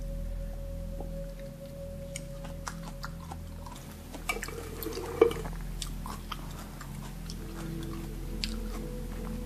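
Homemade kimchi being chewed at the first taste after four days of fermenting, with close, moist crunching and squishing bites over a low steady background hum. A sharp bite stands out near the middle.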